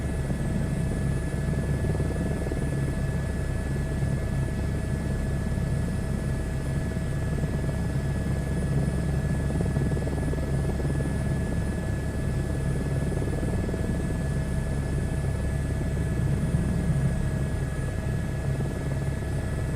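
An H125 helicopter in a flight simulator game, its steady rotor drone and turbine whine holding constant and fairly loud for the whole stretch, with no talk.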